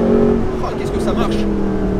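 A Mercedes SLS AMG Roadster with 571 horsepower revs its engine, a loud close rising drone under someone talking excitedly over it.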